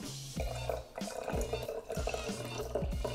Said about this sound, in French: On va verser le Moscato.